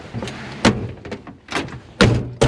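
The door of a 1950 Ford F-3 pickup truck slams shut several times in a row, each a loud, close thunk with a short rattle, separated by brief pauses.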